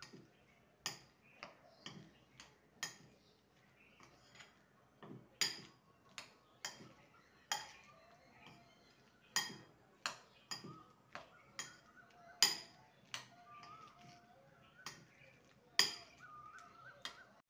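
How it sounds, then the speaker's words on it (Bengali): Okra pieces are mixed into a gram flour batter, giving faint, sparse clinks and taps of a utensil against a bowl at an irregular rhythm over near silence. "ভালো করে ব্যাটারের সঙ্গে বেসনের সঙ্গে মিশিয়ে নেব।"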